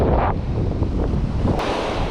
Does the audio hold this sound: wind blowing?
yes